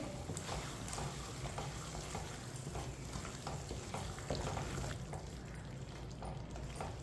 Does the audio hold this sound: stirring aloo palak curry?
yes